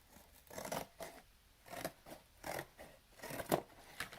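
Scissors cut off the sides of paper in repeated slow crunching snips, each a short rasping burst spaced roughly every half second, close and quiet with no voices.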